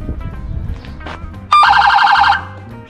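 Police siren fitted to a restored Dodge Charger police car, a loud close electronic wail that bursts in suddenly about halfway through, holds for roughly a second, then cuts off, with low background rumble before it.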